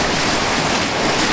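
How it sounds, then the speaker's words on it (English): Big ocean waves crash and surge beside a pier during Hurricane Sandy, a continuous loud roar of surf with heavy wind noise buffeting the microphone throughout. "see these waves coming at us"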